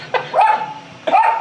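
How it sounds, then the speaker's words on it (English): A 10-pound Havanese on a windowsill fires off two sharp, close barks that trail into whiny yelps at someone cutting hedges outside. "She is on the windowsill barking at this guy that's cutting hedges right outside."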